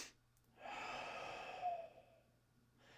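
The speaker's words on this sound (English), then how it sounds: "he says breathing rapidly twice and exhale like." A man takes two quick breaths and then lets out a long exhale in meditation-style breathing, close and quiet, followed by a softer breath at the end.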